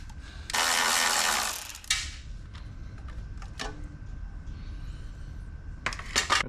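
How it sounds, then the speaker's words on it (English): A Milwaukee ratchet turning an 8 mm socket on a Briggs and Stratton generator left sitting in a field: a loud burst of rapid ratcheting, then a few sharp separate clicks and a final quick run of clicks. "this Milwaukee ratchet works great, and then I always have an 8 or a 10 millimeter"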